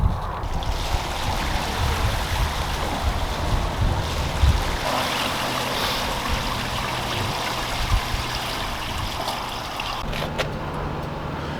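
Water rushes steadily through an RV hose at a campground dump station, a continuous hissing, gurgling flow with occasional soft knocks and no voices.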